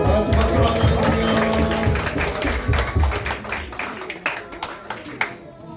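A high school church congregation claps together in greeting during a Sunday worship service, a loud burst of clapping over music and voices that thins out toward the end.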